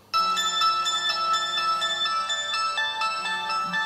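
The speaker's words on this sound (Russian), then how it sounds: "кто-то звонит." A phone rings with a bright melodic ringtone, steady tones stepping through a tune, loud and close, no talking, on a rural worksite where pole fencing is being built.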